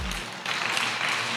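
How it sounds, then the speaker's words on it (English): Audience applause for a panel at an international arbitration colloquium in Sabah, a dense, steady wash of clapping from a conference crowd that holds at an even level for the whole short stretch. "Ladies and gentlemen, round of applause for our panel once again."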